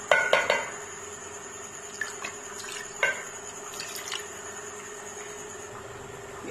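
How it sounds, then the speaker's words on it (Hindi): Water is poured into a cooking pot while making chicken aloo shorba: a few metallic clinks at the start, then a steady, even rush of pouring water into the pot. "अब मैं इसमें पानी डाल दूँ।"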